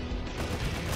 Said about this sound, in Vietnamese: Ôi thằng kia bắn rát quá.